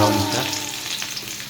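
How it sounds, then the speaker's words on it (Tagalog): Garlic sautéing in oil in a pan, a continuous close sizzle that crackles briefly and then settles into a softer frying hiss. "yung bawang para mag-brown siya"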